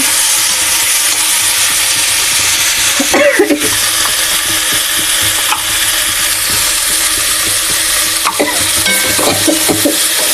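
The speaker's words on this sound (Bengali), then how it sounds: "ভেজে নিয়েছি, সব তেল দিয়ে ভেজে নিয়েছি, তারপর সবজিটা হচ্ছে।" Potatoes and vegetables fry in oil in a home kitchen, a loud continuous close sizzle broken by a few scraping stirs, with no one talking.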